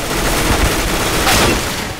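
Loud, close gunfire in CS:GO team deathmatch, a burst of rapid shots with a sharp crack standing out near the middle, dense and punchy over a short stretch.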